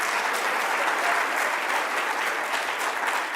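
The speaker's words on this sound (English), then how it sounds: "let's give him a round of applause" An audience applauds steadily and loudly at a public event, a dense, even wash of clapping that holds without a break for the whole stretch.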